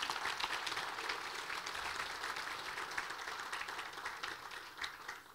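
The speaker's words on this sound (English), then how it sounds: "Let's give these guys a big round of applause." A crowd applauds at an economic forecast event, dense steady clapping spread across the room at moderate level for the whole stretch, fading slightly toward the end with no voices over it.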